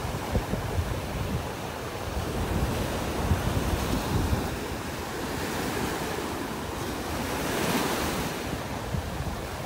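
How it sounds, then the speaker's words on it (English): Ocean waves break and wash on a beach in North Naples, Florida, a continuous rolling surf with wind buffeting the microphone and swells rising and falling, no talking. "With these waves, the tide's going to be coming in fast this morning"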